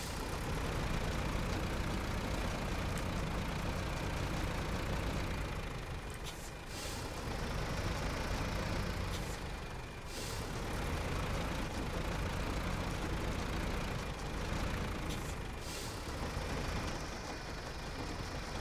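A tractor engine idles in a tractor driving video game, a steady low rumbling drone that dips briefly a few times, with no talking over it.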